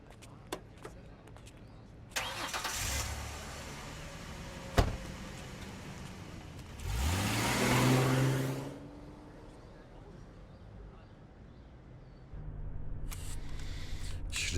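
A car door thuds shut, then the engine starts with a brief rising roar and the vehicle pulls away, with another door and engine noise later; muffled voices are faint in the background.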